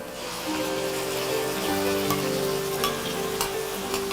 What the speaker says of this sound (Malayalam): സവാള ഇങ്ങനെ മൂത്ത് ഒരു ഇളം ബ്രൗൺ നിറമായി നല്ല മണം വന്നു തുടങ്ങി.